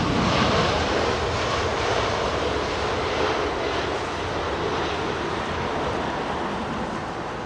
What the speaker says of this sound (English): Oh, nice Iceland Air, new livery.